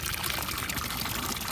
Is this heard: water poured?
yes